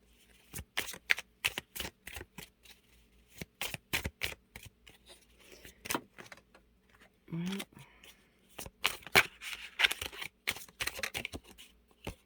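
Tarot cards being shuffled and drawn from a deck, a close, crisp run of rapid riffling and snapping card flicks in irregular bursts throughout, with brief pauses between flurries.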